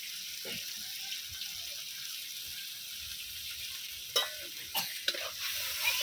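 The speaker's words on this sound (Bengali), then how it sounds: "এবারে আমি যে টমেটো পেস্ট বানিয়ে রেখেছিলাম সেইটা দিয়ে দিচ্ছি" Tomato paste going into a well-fried masala for chana paneer: a soft, continuous sizzle with a few scraping stirs and knocks toward the end, fairly quiet and with no talking.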